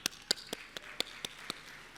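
A handful of isolated claps from an audience at a talk on inclusive education in Tanzania, about eight sharp separate hits spaced roughly evenly over two seconds, sparse and fairly quiet rather than full applause.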